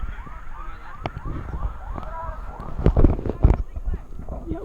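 A car alarm siren rises and falls repeatedly at a moderate distance during an outdoor men's club soccer match, with crowd noise and a few sharp knocks over it.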